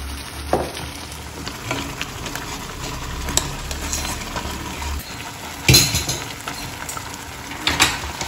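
Rice and boiled dal added to a pot for dal khichdi and stirred, with clinks and scrapes of a spoon against metal over a low sizzle, several louder knocks standing out.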